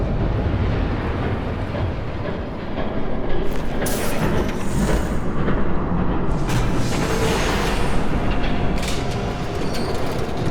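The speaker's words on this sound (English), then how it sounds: "There's a train coming." An approaching train in Batman: The Telltale Series, a loud, steady rumble of rolling wagons with squealing wheels and rising metallic hiss, carrying on without pause and no talk over it.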